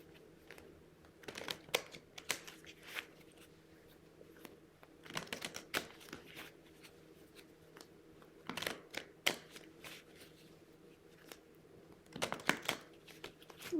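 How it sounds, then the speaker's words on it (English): Bursts of crisp, rapid card riffling come in several separate rounds, close up against a quiet room, with short pauses between shuffles. "I want to give them a good shuffle here."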